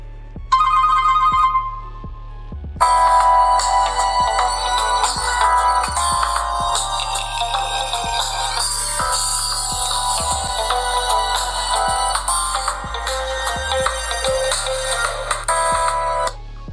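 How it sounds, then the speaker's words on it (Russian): A Cubot Dinosaur smartphone plays its notification ringtone: a brief chime, then a loud, steady electronic melody with a pulsing bass beat that repeats for over ten seconds, close and clear with no talk. "Звук уведомлений рингтон."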